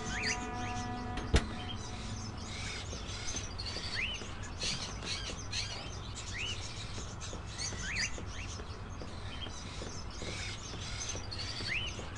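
Crows held in cages in an old cabin in the video game Indigo Prophecy give repeated short calls and chirps over a steady ambient hum, with a single sharp click near the start.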